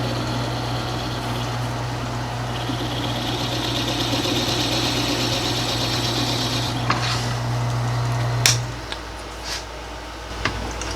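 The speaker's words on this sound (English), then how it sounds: "I'm going to drill this on the lathe. First off, I'm going to get a good starter hole." A centering bit on a wood lathe bores a starter hole in a tri-colored segmented pen blank, giving a steady motor drone with a scraping, rasping cut that ends around eight seconds, followed by a few light clicks.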